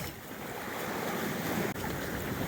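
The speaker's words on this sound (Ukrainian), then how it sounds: "Отаке, друзі, сьогодні моречко, воно штовхається." Sea waves on a beach in Odesa, a loud steady wash of surf and wind close to the microphone, continuous and unbroken apart from one brief dropout.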